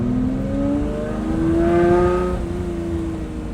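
A straight-piped Lamborghini Murcielago with E-gear drives past its occupants, its engine rising in pitch through a steady rev, peaking near the middle, then settling lower, loud and close with no talk.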